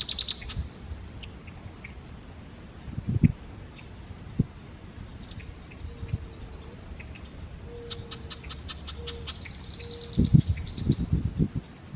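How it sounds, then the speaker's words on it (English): Male red-winged blackbird calling in a spring forest near a pond, several short chirps and a buzzy trill scattered across the clip, moderately distant, with footsteps and handling noise and faint low croaks of a bullfrog. "There's another male red-winged blackbird."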